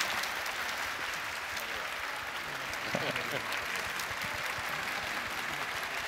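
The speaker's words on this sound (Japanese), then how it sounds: "こちらから皆さん拍手でお迎えください" A stage audience claps to welcome director Nicolas Winding Refn at a Death Stranding 2 special event, a continuous even roar of applause with a faint voice briefly showing through midway.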